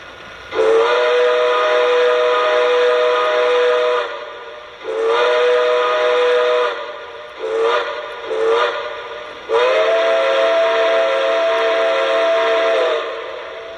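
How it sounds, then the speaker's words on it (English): Several long blasts of a Weaver Models Lehigh Valley Black Diamond 4-6-2 model steam locomotive whistle (TMCC), a bright chord-like tone, sounding alone with short gaps between them, loud and close. "Okay, here's the whistle."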